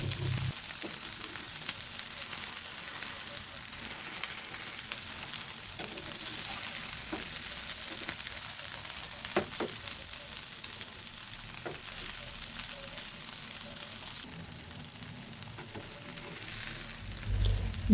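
Beef burger patties fry in a little oil in a hot pan over medium heat, a steady close sizzle and crackle with occasional pops, continuous throughout.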